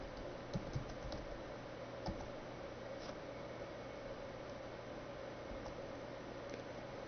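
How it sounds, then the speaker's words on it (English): Computer keys clicking as a password is typed, a few light taps scattered over a steady hiss of background noise, close and faint, with no voices. "Type in the correct password"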